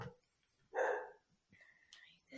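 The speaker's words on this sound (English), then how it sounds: "there's my dog back there" A dog named Scooby barking in the background indoors, with one short, fairly loud bark followed by fainter yips and whimpers, all somewhat distant.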